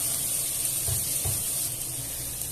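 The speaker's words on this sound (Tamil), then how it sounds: "நம்ம நல்லா வெங்காயம் சாத்தே ஆயிட்டு வந்துருச்சு." Onions with curry leaves sauté in a pan for Karaikudi chicken curry, giving a continuous broadband hiss of frying with a couple of soft stirring bumps, close and steady.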